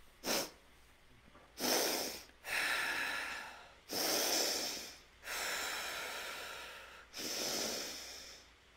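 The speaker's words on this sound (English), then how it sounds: "I breathe really loud when I do this." A person breathing loudly and deeply during a guided manifestation exercise: five long, forceful breaths with short pauses between, close and breathy, one brief sharp intake first, no talking.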